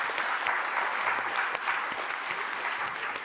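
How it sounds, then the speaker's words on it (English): Conference audience applauding speakers at a U.S.–China policy event, a steady dense wash of many hands clapping at moderate distance, sustained evenly throughout without any talking. "Give them a round of applause, please."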